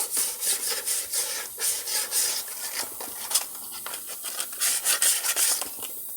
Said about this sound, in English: The final clean on the outer hub.